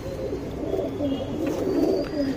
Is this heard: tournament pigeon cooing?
yes